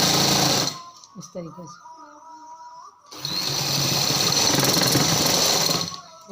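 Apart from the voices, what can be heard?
sewing machine stitching a trouser hem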